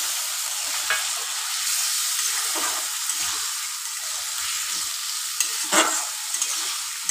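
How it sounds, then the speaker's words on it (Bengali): Chunks of elephant foot yam stir-fried in a hot pan, a steady close sizzle with occasional scraping stirs of a spatula, no talking. "এবার এটাকে কষতে থাকুন"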